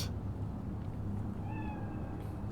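A cat in the game Cyberpunk 2077 gives a short, faint meow with a rising then falling pitch, heard alone over a low rumbling game ambience.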